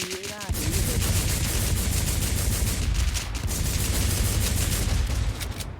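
Rapid automatic gunfire rattles through the WarZ shooter game in sustained bursts of closely spaced shots, loud and unbroken, with faint voices mixed underneath.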